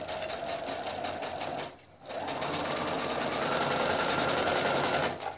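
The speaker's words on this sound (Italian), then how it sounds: "mi sistemo sempre per fare la mia cucitura a distanza piedino, supero lo spillo, ok, vado" A domestic sewing machine stitches a seam on a rabbit-themed fabric project, running with a steady, close, rapid mechanical whir that stops briefly for about a second and then resumes at full pace.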